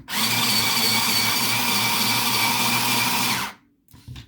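An Indra watercolor pencil with a black wooden barrel grinds loudly and steadily in a pencil sharpener for about three and a half seconds, then cuts off into near silence with a faint rustle.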